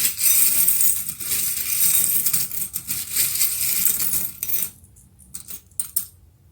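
Metal charms clink and jangle together as one is drawn for a reading, bright close rattling that fades into a few sparse taps and then silence.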